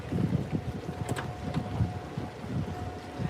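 A rental Mokumboot cruises Amsterdam's canals with a steady low motor rumble, a faint constant whine and wind buffeting the microphone, close and fairly loud, with no talking.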